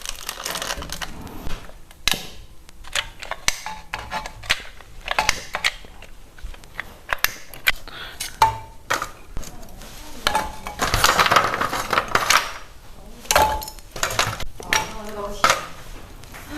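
Lumps of charcoal are dropped and shifted into a home barbecue grill, producing scattered crunchy clatters and scraping knocks at close range, irregular and uneven, with busier rattling bursts partway through.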